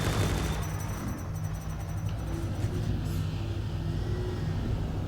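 Ship weapons firing in Star Citizen on a Raptor X, heard as a steady stream of rapid low booming shots with a continuous rumbling drone underneath, loud and close throughout.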